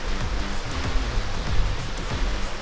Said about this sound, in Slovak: Pozrite sa na ten potok, pozrite sa na tú vodu.